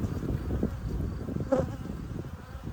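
Honey bees in an open hive frame, colony filling cells with nectar, a steady close hum of many wings throughout with no talking.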